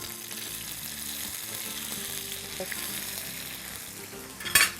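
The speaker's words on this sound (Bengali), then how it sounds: "এটা প্রতিটা পাশ কিন্তু ঘুরিয়ে ঘুরিয়ে ভাজতে হবে" Chicken malai tikka pieces fry in a pan, turned side to side, with a steady loud sizzle and crackle, then a sharp utensil clatter near the end.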